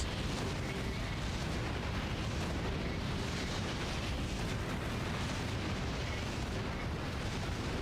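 Lava bomb explosions in a Zelda video game rumble as one continuous, heavy, booming roar, loud and dense from start to finish with no pauses between blasts.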